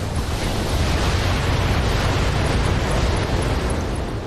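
A sustained, loud roaring blast rumbles continuously from an artillery explosion in the BattleTech video game, with a dense low-end boom and no voices.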